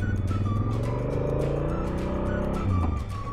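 A Honda Africa Twin motorcycle rides uphill on a paved mountain road. Its engine drones steadily and close, rising in pitch as it pulls, with wind rush over the whole stretch.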